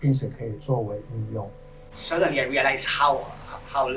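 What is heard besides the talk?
None of the usual background noises is heard.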